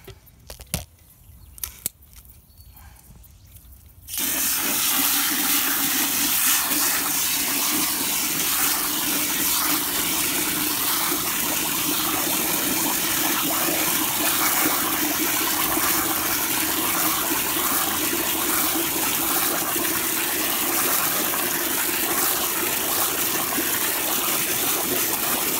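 Water softener tank holding resin and gravel being rinsed out with water: after a few soft knocks and clatters, a loud, steady gushing rush of water starts and continues unbroken for over twenty seconds.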